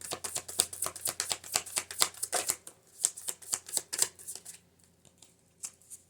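A tarot card deck is shuffled at close range in quick repeated riffles and flutters, crisp papery bursts that trail off into quiet with one last short shuffle.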